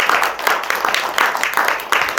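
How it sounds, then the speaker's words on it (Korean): A temple congregation at a Dharma talk for the 60th anniversary of Sangbulsa in Hanam claps for itself, a full, close round of applause with uneven swells of rhythmic clapping throughout. "여러분 자신에게 박수 한번 쳐주세요"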